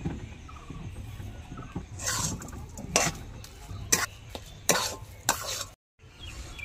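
Taro leaf greens being stirred in a pot with added sugar, giving intermittent scraping and stirring strokes over a soft sizzle, with one brief pause near the end.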